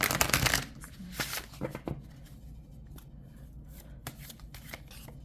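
Tarot cards being shuffled by hand during a Leo reading, a dense riffling burst at the start followed by softer intermittent card slides and taps, close and fairly quiet, with no talking.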